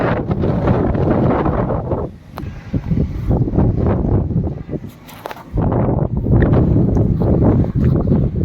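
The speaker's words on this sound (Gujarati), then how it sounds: "અત્યારે તો ફૂલ પવન આવે છે ઉપર" Strong wind buffets loudly and roughly against the microphone almost throughout, easing briefly a couple of times before gusting back hard.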